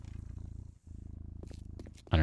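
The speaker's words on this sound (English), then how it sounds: "Grimfang, supposedly it's good for healing too. Like the actual literal, like purring and vibration." A cat purring in a 7 Days to Die Walking Dead Mode game session, a soft low rhythmic rumble with a brief pause midway, faint and close, ending in a sudden louder burst.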